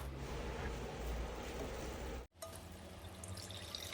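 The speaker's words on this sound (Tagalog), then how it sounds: "Pagkatapos, buhusan natin ng tubig para ma-stop ang cooking time nito." Water is poured over half-cooked pancit canton noodles in a pan, giving a steady, fairly loud hissing splash that breaks off briefly and then continues more softly.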